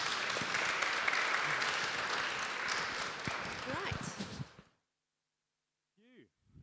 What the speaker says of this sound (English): Give a big applause to the panel.